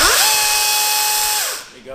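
An electric chainsaw with strong torque, shown in a tree-work equipment shop, runs at a loud, steady high-pitched whine for about a second and a half, then winds down quickly.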